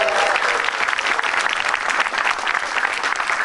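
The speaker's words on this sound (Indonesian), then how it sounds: "Tepuk tangan dulu buat Metro TV dong" Audience at a stand-up comedy show breaks into loud, dense applause, a continuous close wash of clapping from a crowd that holds steady for several seconds.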